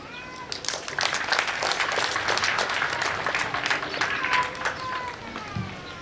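Audience applause for the guest of honor at a graduation ceremony: a steady, dense wash of clapping that holds for several seconds, with cheering and high voices mixed in.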